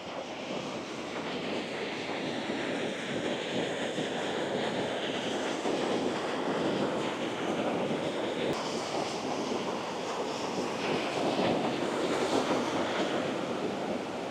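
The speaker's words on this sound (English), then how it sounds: "Behind me here is Red Mountain Creek." Red Mountain Creek in Colorado's San Juan Mountains rushes steadily past, a loud continuous broadband wash of flowing water with no breaks or voices.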